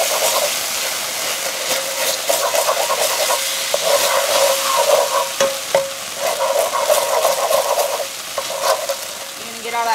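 Two ounces of cream cheese melt in a hot pan for keto Alfredo sauce, a continuous loud sizzle and stirring hiss with spoon scrapes and sputters, no talking.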